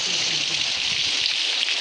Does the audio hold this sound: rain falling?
yes